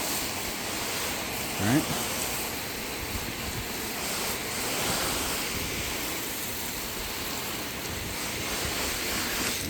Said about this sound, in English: Let's rinse it again.